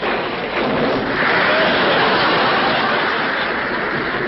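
Steady heavy rain roaring continuously with a low rumble of thunder, loud and close, no voices.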